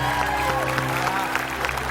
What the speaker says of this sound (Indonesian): Boleh tepuk tangan dong untuk Vincent.